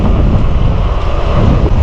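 Loud, continuous wind roars across the microphone while riding a gravel bike on a multi-day trip, a dense rumbling rush with no pauses and no voices.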